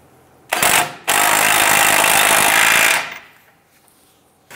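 A tie rod end nut is snugged down on a Dodge Ram 1500 pickup with an impact wrench, giving one short rattling burst and then a longer continuous hammering run that stops abruptly.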